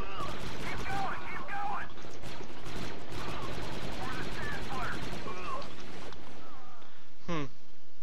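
Blaster-style gunfire in Star Wars Battlefront 2 with an Old Republic era mod, giving dense rapid bursts of shots over continuous battle noise, with occasional talk in the mix.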